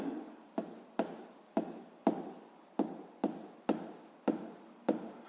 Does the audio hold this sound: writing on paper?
yes